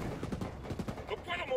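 Rapid bursts of gunfire in the tactical shooter Ghost Recon Wildlands during a Ghost War PvP match, a quick string of close shots with game sounds and voices mixed in.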